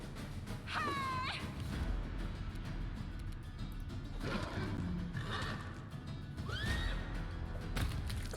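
Horses neighing in the fantasy role-play game Pathfinder: Wrath of the Righteous, with several shrill, descending whinnies spread across the clip over a busy background of battle clatter and hoof-like thuds.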